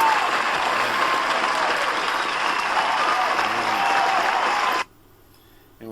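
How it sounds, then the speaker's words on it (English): A crowd of audience members applauds, a loud, sustained wash of clapping for nearly five seconds that cuts off abruptly into near-silence. "You deserve to give yourselves a round of applause."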